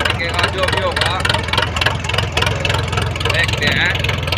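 A Sonalika 750 tractor engine idles nearby with a loud, steady low-frequency chug, its rapid pulses continuous throughout while people talk over it.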